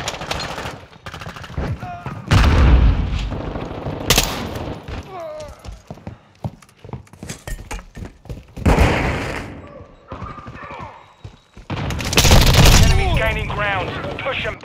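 Call of Duty Modern Warfare 2 multiplayer firefight with bursts of automatic gunfire and heavy blasts, one loud detonation among them, while voices call out over the shooting.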